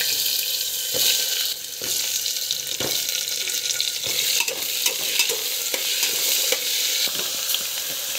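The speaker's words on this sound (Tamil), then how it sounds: "ஸோ பூண்டு, கடலைப்பருப்பু வந்து வதங்கணும்" Garlic, chana dal and cumin sauté in a pan with a dense, steady sizzle close by, and spaced scraping knocks mark each stir of the spoon; no one speaks.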